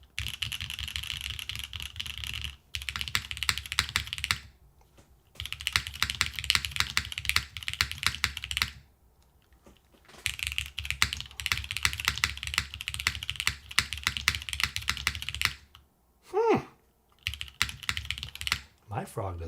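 Typing on a Frog TKL keyboard with a Heine PCB, tadpole stabilizers and heavily broken-in, filmed, spring-swapped, lubed Ultra Glide switches: rapid close clacking in several bursts separated by short pauses, with a brief faint noise near the end.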